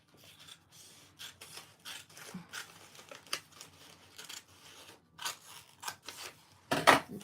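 Scissors cut through paper in a series of short crisp snips and rustles, close and fairly quiet, ending with a louder crinkle of paper.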